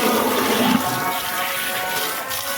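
Water gushing forcefully from a tap, a loud continuous broadband rush that holds steady throughout with no voices.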